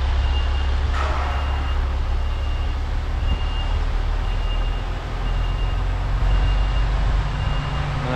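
A truck unit reverses to line up with its trailer, its backup alarm sounding in steady repeated beeps over a constant low engine rumble, close by and fairly loud.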